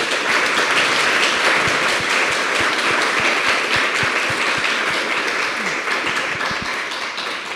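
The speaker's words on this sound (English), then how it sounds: "Please join me in giving a big applause to our panelists today." Loud, sustained applause from a workshop audience for the panelists, a dense wash of many hands clapping without a break at steady volume, easing off slightly toward the end.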